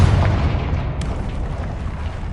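A Confringo blasting spell going off in Hogwarts Legacy, a loud rumbling explosion that starts at once and stays as a sustained roar, with a sharp crack about a second in.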